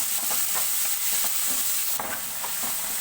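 Two large tomatoes frying in a pan after onion for prawn curry, a loud continuous sizzle with repeated scraping strokes of the stirring spoon, close up and without talk.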